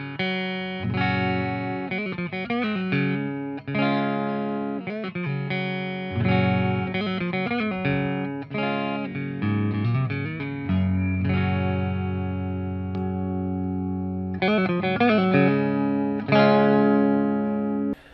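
An Epiphone Les Paul Prophecy electric guitar on its split single-coil neck pickup plays clean chords and short melodic runs with some chorus-like shimmer and reverb, clear and close with no voices.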